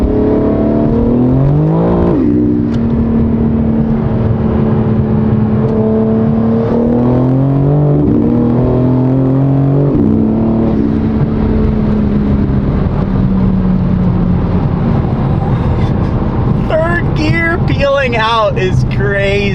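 A BMW M4 Competition running an E85 blend pulls hard in third gear, its engine note rising in a steady loud climb with shifting tones and a burst of higher harmonics near the end, while a voice talks over it.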